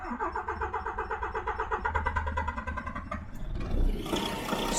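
A DAF truck diesel engine, worked on after a valve change in the back of the block, cranks in a fast rhythmic chug for about three seconds and then catches into a loud, rough running roar, close by with no talk.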